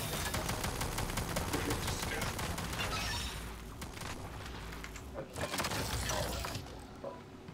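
Automated turrets in the game Prey fire rapid, dense bursts with a sharp rattling rhythm, loud for the first few seconds, then sporadic shots and impacts.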